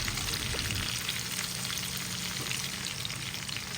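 Okra (bhindi) frying in a pan with chopped red and green chilies gives a steady, loud, dense sizzle that runs unbroken from start to finish with no voices.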